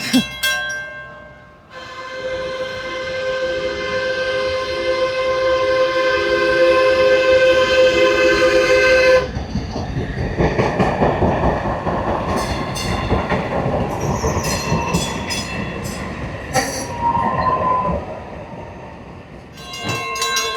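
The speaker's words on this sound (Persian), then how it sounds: "وقتی قطار پشت سر هم میاد" Trains pass in succession in historic Plano, Texas: a long sustained horn blast, then heavy clattering wheels and rail noise continue, with a shorter horn call near the end.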